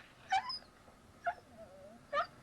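Three short, high-pitched yips from a small dog in the film Halloween (1978), evenly spaced and fairly close, over quiet background hum.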